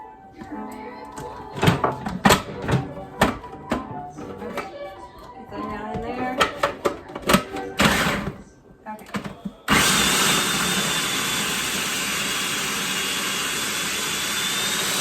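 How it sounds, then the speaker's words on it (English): A food processor whisks a vegan deviled ham mixture. Short choppy bursts come first with pauses between them. A loud, steady, high-pitched whir then runs close up until the end. "we're going to use the food processor, whisk it up"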